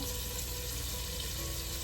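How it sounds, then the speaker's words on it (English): Steady, dense sizzling of beef stew ingredients frying in a pot, constant and close without pause. "So this is nice and sizzling"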